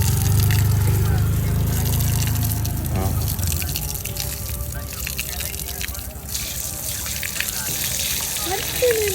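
Tap water runs and splashes as feet are washed outside a Sai Baba temple, a steady gush and drip close by under people talking.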